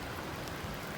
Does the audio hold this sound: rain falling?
yes